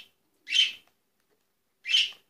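A pet budgerigar gives two short, bright chirps about a second and a half apart, close by in an otherwise quiet room.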